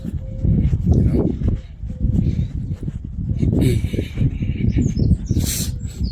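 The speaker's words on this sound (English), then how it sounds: "Hear the birds" Birds chirp and whistle in short bright calls above someone talking close up, the calls thinner and farther off than the voice.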